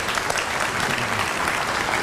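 Loud, dense applause fills the hall at a Florence athletic hall of fame induction ceremony as the crowd honors an inductee, a continuous even wash of many hands clapping close by.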